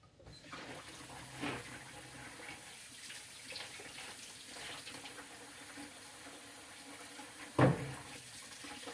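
Tap water runs steadily into a sink during handwashing, a low continuous wash with a few brief knocks and one sharp clatter near the end, no talking.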